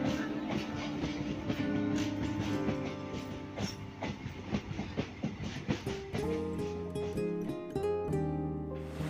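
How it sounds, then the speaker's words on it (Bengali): A train stands and moves at Gokarna station on a line bound for Goa, its engine droning steadily with rhythmic clatter and hiss, loud and close throughout, ending in a rising horn-like tone. "এই ট্রেনটা কিন্তু সোজা যাচ্ছে গোয়া"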